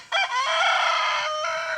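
A rooster crows once, close and loud, a long strained call with a rising start and a drawn-out tail.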